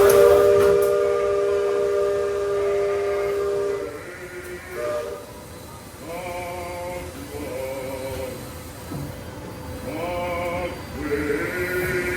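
The steamboat Liberty Belle's steam whistle sounds a long sustained tone, followed by several shorter hissing blasts with steam noise in between.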